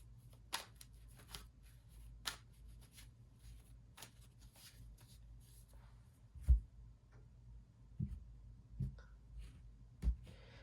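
Quiet, intermittent tarot card shuffling with soft riffles and a few sharper taps, no voices.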